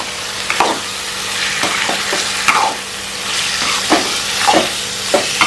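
Liver curry seasoned with turmeric and salt frying in a pan while being stirred, giving a steady loud sizzle broken by repeated scraping strokes of the spoon, close up with no talking.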